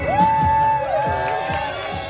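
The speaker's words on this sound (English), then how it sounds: "That's a really warm applause." Live crowd at a music performance cheering and whooping loudly after a song, close and energetic with shouted voices and a tonal whistle-like whoop rising over the roar.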